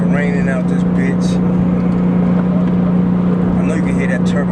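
A Porsche 911 Turbo engine drones steadily as the car drives on a rainy day, a constant low hum running through the whole stretch with hiss from wet surroundings and faint voices.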